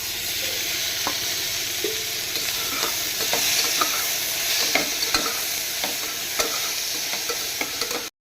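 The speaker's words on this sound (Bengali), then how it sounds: "সামান্য ছোট্ট একটা শুকনো লঙ্কা ফোড়ন দিয়ে, পাঁচফোড়ন ফোড়ন দিয়ে বাবু চাল কটা দিয়ে দেবো।" Rice sizzles and fries in hot oil with a dried red chilli and five-spice seasoning for khichdi, a steady loud hiss broken by repeated clinks and scrapes of stirring.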